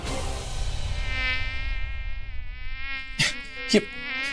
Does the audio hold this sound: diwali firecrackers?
no